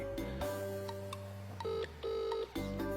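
A mobile phone rings with a tonal, repeating electronic ringtone, bright pulsing notes in short bursts, close and clear with no talking over it.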